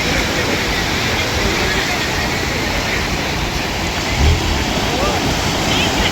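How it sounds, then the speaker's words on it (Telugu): Sea waves at a beach in Goa make a loud, constant, close roar of surf with no clear breaks between swells. "సముద్ర అలల సౌండ్ కూడా వినండి."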